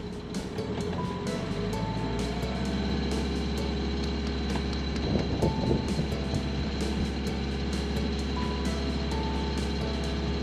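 A sailboat's inboard engine held at a steady 2,000 rpm during a test run, giving a loud, continuous drone with an even hum that stays level throughout, with no talking.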